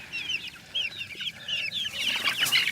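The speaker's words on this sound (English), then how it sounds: "These chicks are getting big for in here" Growing chicks cluck and chirp in a pen, with repeated short high calls in quick succession, close and fairly soft over a low steady background.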